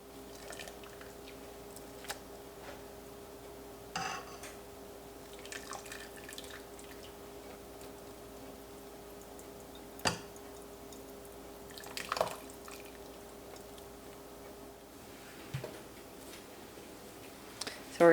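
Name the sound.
ricotta curds draining liquid in a mold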